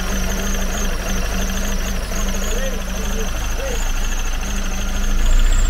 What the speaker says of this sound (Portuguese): Esse motor vibra